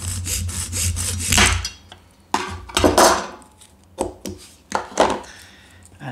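A knife scrapes and trims a plastic part on a Bruder Jeep rear axle, close and rhythmic: a steady run of rasping strokes, then a few separate sharp cuts with pauses between them.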